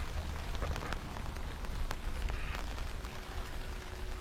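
Steady rain patters on garden surfaces, leaves and cactus plants, a dense continuous hiss with scattered closer drips, no voices.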